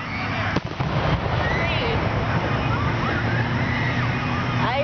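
Fireworks going off outdoors: a sharp bang early on, then whistling rockets and crackling under a constant roar, with people talking nearby.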